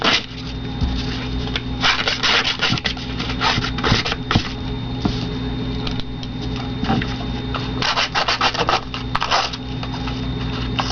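Paper edges are rubbed with sandpaper in a small heart-shaped sanding holder during papercraft work. The strokes make quick, close, scratchy scraping in rapid bursts throughout, over a faint steady background hum.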